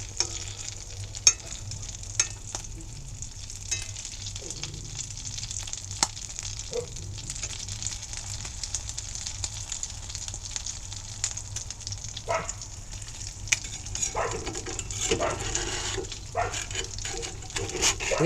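Salmon and tuna patties frying in a cast iron pan on a stove in a greenhouse, a constant low sizzle broken by scattered crackles, pops and the scrape and clatter of a spatula, close by.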